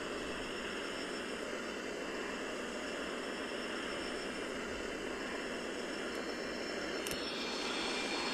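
Boeing 737 jet engines on a takeoff roll on a short hop out of Seattle, heard as a steady, loud, broadband roar that runs unbroken and swells slightly near the end.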